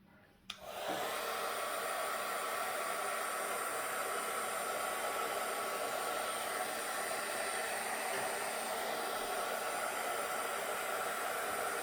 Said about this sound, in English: I'm gonna use my heat gun, which I will link down below,